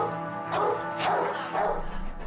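An injured pit bull gives about three loud, close barks in a row, each one short and sharp, with nothing else heard around them.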